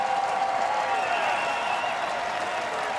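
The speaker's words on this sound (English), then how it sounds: "applause from their fans here." Bison fans fill the Fargo Dome with a steady wash of stadium applause and crowd noise, a broad sustained roar with a continuous tonal hum running underneath throughout.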